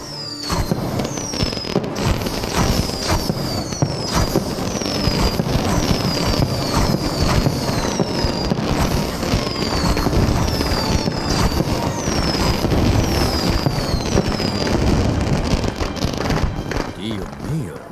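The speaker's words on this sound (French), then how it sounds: "J'aimerais voir la tête de Rizzo quand le feu d'artifice éclatera en pleine journée" Fireworks burst in the Assassin's Creed Nexus game in dense, continuous volleys of loud crackling pops, with rising whistles repeating throughout, loud and close.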